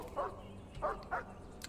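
A dog in the video game Mr Prepper gives three short, fairly quiet barks spaced apart, with a low background hum under them.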